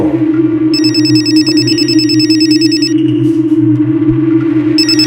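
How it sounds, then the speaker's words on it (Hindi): A telephone rings in bursts of rapid electronic trills over a steady low hum, pausing briefly before ringing again. "ये दोपहर से चौथी बार फोन कर रही है स्वाति यार"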